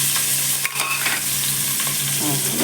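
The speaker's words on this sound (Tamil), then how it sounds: "வெங்காயத்தை தாளிச்சிடலாம்" Onions fry in hot oil in a pan with a loud, steady, close sizzle and a brief stirring scrape partway through.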